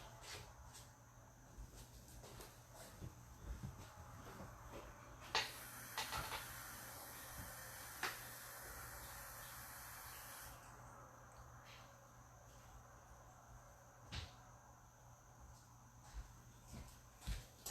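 Water running from a tap briefly rinses bleach off a rubber stamp, a steady broadband hiss rising for about five seconds over a quiet room with small clicks and handling bumps.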